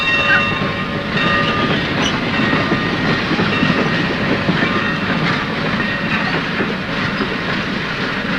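A train rumbles along with a rhythmic clickety-clack of wheels on rails, loud and close, with faint whistle-like tones over the steady roar.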